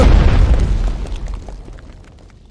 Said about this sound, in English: Flak battery, ready to make some noise. Target locked! Shoot!